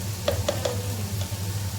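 A spoonful of ghee crackles quietly in a small tempering pan for dal fry, with a few quick taps of a spoon near the start and a low steady hum underneath.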